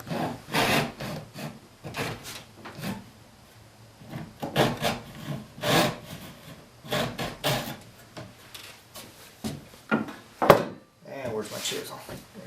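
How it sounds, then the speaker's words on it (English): A hand saw cuts through wood on a chair handhold, sawn left-handed with the piece flipped upside down, giving close, repeated rasping strokes in an uneven rhythm, with brief pauses and a louder knock near the end. "I flipped her upside down here, which means I got to saw with my left hand"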